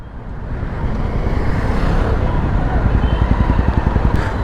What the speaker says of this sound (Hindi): ओ भाई काफ़ी लंबे समय बाद ट्रैफिक यहाँ पे जाम खुला है, देख रहे हो गाड़ियाँ बाइक्स